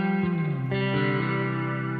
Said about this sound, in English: It's so pretty sounding with this, what is this, the Catalan Bread Topanga spring reverb pedal.